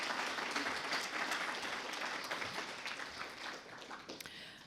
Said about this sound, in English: Massive round of applause for Dr. Pervez.